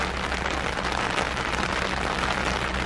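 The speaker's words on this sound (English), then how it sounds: "It's raining really hard." Hard tropical rain in Costa Rica falls in a dense, continuous hiss of drops beating on surfaces, loud and close and unbroken from start to finish, with no talk over it.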